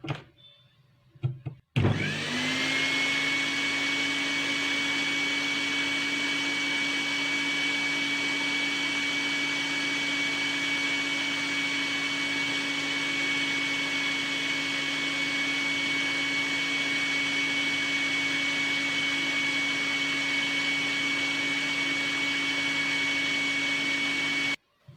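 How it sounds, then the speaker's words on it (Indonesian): An electric blender switches on and runs with a steady, loud motor whine and hum that holds constant for over twenty seconds before cutting off. "Yang keempat, blender."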